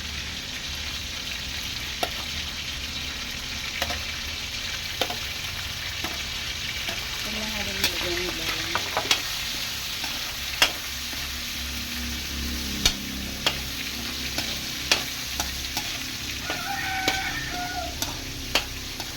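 Chicken liver and gizzards fry in a pan with a steady close sizzle, broken by scattered sharp clicks of a utensil stirring and scraping, and faint voices in the background.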